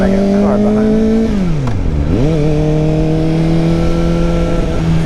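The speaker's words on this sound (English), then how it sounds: "And I got a car behind me." Car engine droning close behind a moving Kawasaki ZX-4RR 40th Anniversary Edition sport bike, a loud steady motor hum that dips in pitch and climbs again, with constant road and wind roar.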